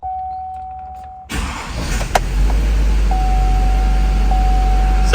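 A Duramax diesel pickup truck with fuel problems cranks and fires after a brief quiet start with a faint tone, then settles into a loud, steady, close-up rumbling idle.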